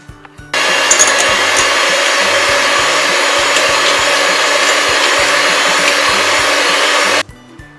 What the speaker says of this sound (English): So I am using a hand mixer and going to beat this.